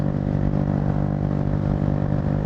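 An SSR Razkull motorcycle engine drones steadily while riding at speed, a continuous loud mid-pitched hum with no pauses or voices.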